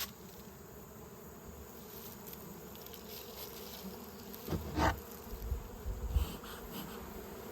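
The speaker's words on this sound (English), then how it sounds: "Make sure every bee gets some smoke on them." Honey bees hum steadily throughout a fall hive inspection, a dense low drone with a few louder swells and thumps near the end as the hive is worked.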